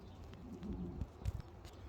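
Low cooing of a pigeon kept by a Filipino fancier, soft and close, with a few brief thumps and rustles around it and no talk.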